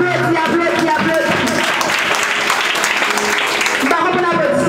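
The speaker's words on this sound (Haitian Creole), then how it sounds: "Applaudis, applaudis, applaudis." A church congregation applauding at an evangelical service in Cap-Haïtien, Haiti, brisk rapid clapping layered with voices and music-like tones, loud and close throughout.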